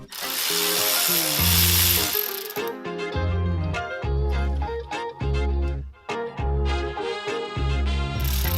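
A ratchet bolts a supercharger support bracket onto a Corolla XRS, heard as repeated clicking bursts over loud, steady background music.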